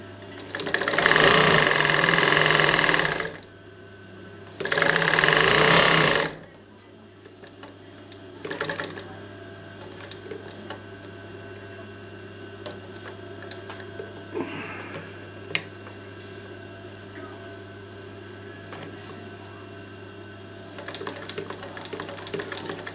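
A Singer 31K15 industrial sewing machine on a slow speed control runs in two short bursts of fast, loud stitching, then stops; faint clicks and handling noises follow in a quiet room.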